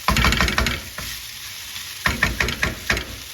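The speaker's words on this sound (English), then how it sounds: "we're going to keep frying this for a couple more minutes" Close, crackling sizzle of pork fried rice frying in a pan, broken by a few scraping stirs, with a quieter pause in the middle.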